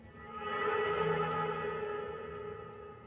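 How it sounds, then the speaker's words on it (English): A digital screech effect sounds as a thin, sustained electronic tone with many stacked harmonics, swelling gently and holding for about three seconds at low level. "This third layer is a digital screech."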